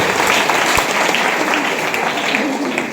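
A crowd applauding at a live comedy show, loud, dense clapping from many hands that holds steady for the whole stretch, with faint voices mixed in.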